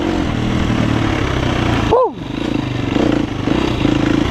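A dirt motorcycle on knobby tyres runs close by with a steady loud engine drone, briefly dipping and revving around the middle while someone speaks over it.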